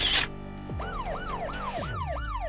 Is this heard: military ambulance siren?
yes